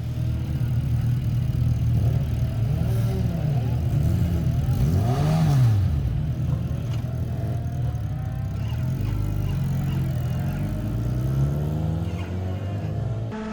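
A race car engine roars through an Australian Drivers Championship race at Winton, its pitch climbing and falling in loud, continuous revving sweeps as it shifts and powers on, with no talk.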